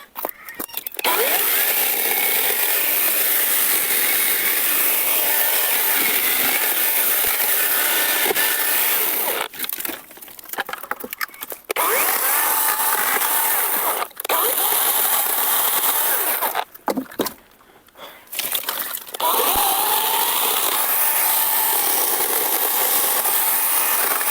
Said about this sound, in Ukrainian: притягнув пеньок, щоб було легше пиляти, бо так незручно